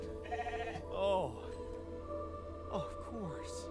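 Sheep in the video game The Alters bleat a few times with wavering, nasal cries at close range, over a steady game soundtrack hum.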